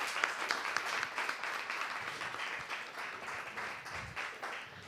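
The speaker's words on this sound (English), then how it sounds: "Let's give Scott a big round of applause." An audience applauds after Scott Johnson's talk on AWS security, steady clapping from a room of listeners that rises and falls slightly over several seconds.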